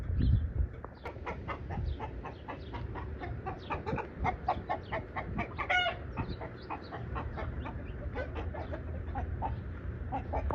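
Several hens and roosters cluck and squawk repeatedly in a busy, overlapping chorus on a homestead, with a short rooster call partway through, moderately close.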